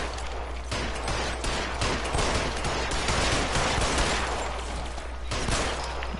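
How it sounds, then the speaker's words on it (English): Sustained gunfire in the video game LA Noire, a steady, dense barrage of shots at moderate loudness that continues for several seconds with brief breaks. "I put like 17 rounds in that guy's chest"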